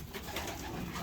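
Pigeons coo softly inside a loft where birds are nesting and laying eggs, a low steady murmur of cooing that runs through the whole moment.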